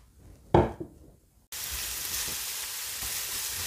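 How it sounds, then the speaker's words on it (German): After a sharp clatter and a brief hush, onions and minced meat hit hot oil in a frying pan, followed by a loud, steady sizzle with no talking. "Jetzt gebe ich ein bisschen Öl in die Pfanne. Und brate jetzt schon mal meine Zwiebeln und mein Hackfleisch krümelig an."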